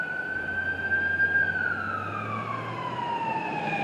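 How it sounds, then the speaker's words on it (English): An ambulance siren wails loud and close on a town street in Pottsville, Pennsylvania, its tone sliding downward as the vehicle passes, over a steady traffic rumble. "There's the ambulance."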